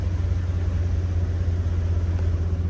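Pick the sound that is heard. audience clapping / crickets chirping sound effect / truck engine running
truck engine running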